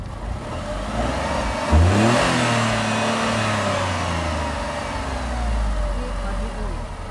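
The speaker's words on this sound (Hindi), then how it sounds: "अब मैं जो रिव करी अभी देखिए कि इससे ज़्यादा नहीं हो सकती" A Tata Tigor XZ engine is revved hard, its pitch climbing quickly to the rev limiter and holding there before settling back to a rough, loud idle nearby.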